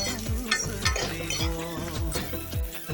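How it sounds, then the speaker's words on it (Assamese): Ginger and garlic fry in a pan with a steady sizzle, broken by repeated scraping strokes of a spatula stirring close by. "আদা নহৰুখিনি কেঁচা গোন্ধ যোৱালৈকে ধুনীয়াকৈ ভাজি থাকিম"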